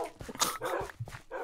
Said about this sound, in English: What is barking? There's so many dogs.